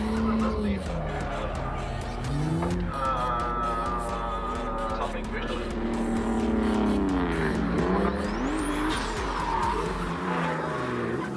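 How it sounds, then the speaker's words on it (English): A turbocharged BMW drift car roars at a drift competition, engine revving up and down with the tires squealing through long slides, the sound close and continuous while a voice talks over it. "BMW engine in it, turbo though, by the sound of it."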